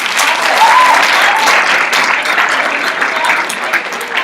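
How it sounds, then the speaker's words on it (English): A conference audience at an event on women entering non-traditional trades breaks into big, sustained applause, many hands clapping close and loud in a continuous burst that barely fades. "can we just all give them a big round of applause?"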